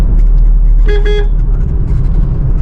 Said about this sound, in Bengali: হালকা হর্ন দিলাম এখানে